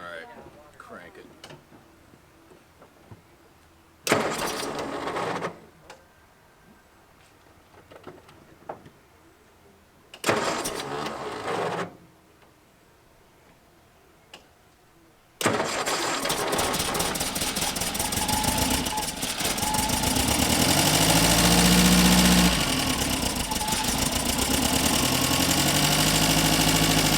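A Triumph TR4 engine cranks in two short starter bursts, then catches and roars into a loud, sustained rough run in a garage, with voices heard between attempts.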